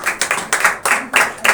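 An audience claps in quick, rhythmic bursts at a religious gathering, with sharp close hand-claps repeating about every few tenths of a second.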